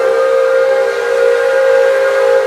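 A loud, sustained steam whistle blows in the small town of Owosso, Michigan: one continuous, steady, breathy tone with a hissy edge, close and dominant.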